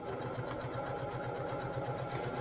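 A sewing machine stitches quilt pieces in a fast, even mechanical rhythm, close and steady throughout with no talking.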